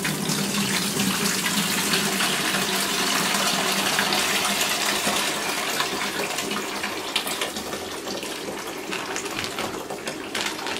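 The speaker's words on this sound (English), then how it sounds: "You gotta let the water out slow." Water slowly draining from a fish shipping bag into a bucket, a steady continuous splashing trickle with a faint gush, close and fairly loud, with no talking.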